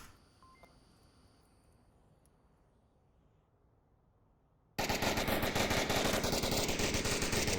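Gunshots in the Onward VR shooter: a faint, low hum gives way to an abrupt, loud, sustained burst of rapid automatic gunfire that fills the second half.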